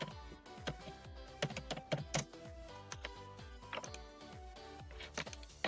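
Rapid keystrokes on a computer keyboard as an email address is entered, a close, steady patter of clicks with irregular rhythm and occasional louder key taps, no voices.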